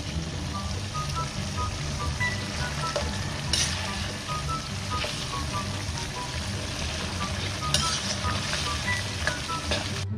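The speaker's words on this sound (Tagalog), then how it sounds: "Ngayon naman ay ilalagay na natin yung binabad nating sotanghon" Soaked glass noodles (sotanghon) cook in a hot pan, a loud, constant sizzle and fry with stirring scrapes and occasional crackles, while faint background music or tones play.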